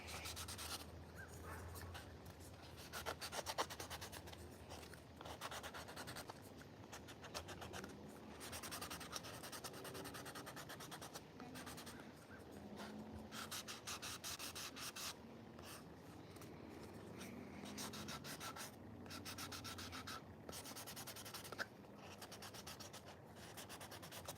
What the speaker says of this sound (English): Just gonna get around it, make sure everything's nicely sanded.